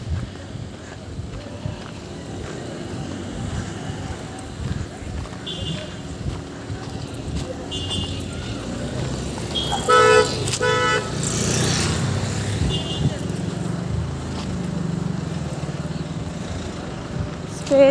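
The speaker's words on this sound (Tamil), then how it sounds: "நிறைய வண்டிங்கள்லாம் ஸ்டாப் ஆகிட்டு இருக்கு" Road traffic with many vehicles stopping, heard as a steady engine rumble with several short car horn toots and a louder cluster of honking midway, while people talk over it.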